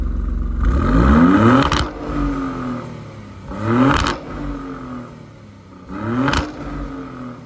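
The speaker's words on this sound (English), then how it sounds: "I'll put an exhaust clip right here so you guys can hear it because it deserves that attention." A Maserati Grecale Trofeo SUV's quad exhaust roars through three loud revs, each rising and snapping off sharply with a crackle, separated by lulls of lower idle rumble, close to the tailpipes.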